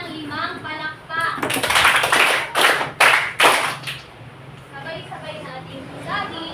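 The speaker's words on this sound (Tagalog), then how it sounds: "bigyan nga natin si Marian ng 5 palakpak." Classroom of students claps together in a quick burst of about five loud claps for a classmate during a history lesson, with a teacher's voice and chatter before and after.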